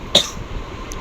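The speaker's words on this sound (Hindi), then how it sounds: "खांसी हो रही है?" A single short cough near the mic, a sharp burst followed by quiet room tone and a faint click at the end.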